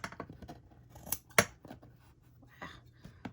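A few sharp scissor snips, brief crisp cuts spaced out across a quiet background, with one louder snip in the middle.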